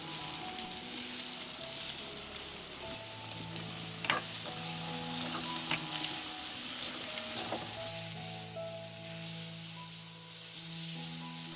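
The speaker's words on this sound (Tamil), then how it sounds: "அடுத்தது கருவேப்பிலை கொஞ்சம் சேர்த்துக்கொள்ளுவோம்." Curry leaves frying in oil for a Tamil fish kuzhambu with raw mango: a continuous crackling sizzle at close range, with a few sharp pops and spits, under a faint background tone and with no speech.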